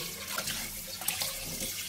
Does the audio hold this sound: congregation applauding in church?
no